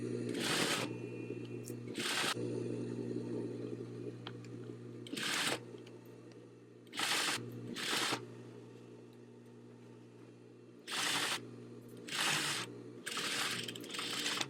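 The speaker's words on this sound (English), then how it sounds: "it is time to go over to the sewing machine and stitch these onto the twill waistband" Sewing machine stitches fabric puffs onto a twill waistband in several bursts of steady mechanical whirring, close and fairly quiet, separated by pauses with a low hum underneath.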